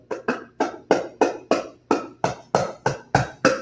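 Eleven sharp strikes on a homemade balloon drum ring out at a steady, slightly uneven pace, each a crisp thump with a short decay, close and alone.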